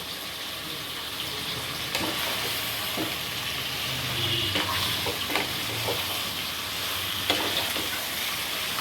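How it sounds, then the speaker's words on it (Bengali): Chicken sizzles steadily in a hot pan with turmeric and salt, with occasional scraping stirs and clinks over the constant frying hiss. "এটা একটু ভাজা ভাজা হবে।"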